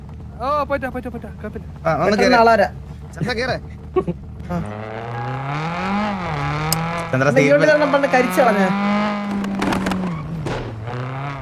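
A car's engine and exhaust note in a video game holds a steady, shifting drone as it revs, with people talking over it throughout.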